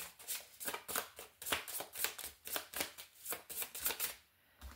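Tarot cards being shuffled by hand, a steady series of crisp riffling swishes repeated in an even rhythm, close and clear with no voice over them.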